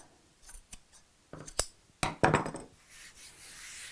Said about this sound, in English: So cutting a fringe.